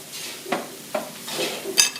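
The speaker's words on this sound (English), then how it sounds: "Gentle when you stir, because the rice already squishy." Soft, gentle stirring of already squishy rice in a pan at a Thai cooking class, a few light scrapes and slushy pushes spaced about half a second apart, close and fairly quiet.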